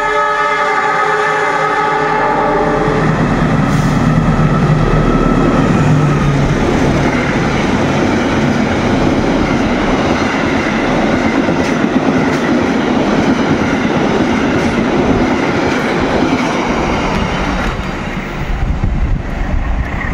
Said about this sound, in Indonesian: di stasiun Sidarja ini kereta api Batu Raden Express akan bersilang dengan kereta api Turaga dari stasiun Bandung tujuan Surabaya